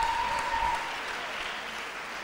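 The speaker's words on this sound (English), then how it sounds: "Can we have a big round of applause for her?" Applause from the audience at a dental college annual day honouring a pedodontics student, a brief, even burst of many hands clapping with a faint tone in the background.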